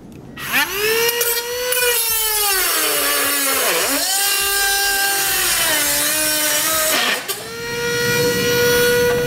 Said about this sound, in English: you can use aviation shears to cut this. You can use a little cutoff wheel